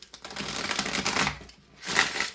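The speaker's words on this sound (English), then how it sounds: "I'm going to shuffle." A deck of oracle cards is shuffled up close in two brisk bursts of rapid riffling flutter, the first lasting over a second, a short pause, then a second quicker riffle, with no talking.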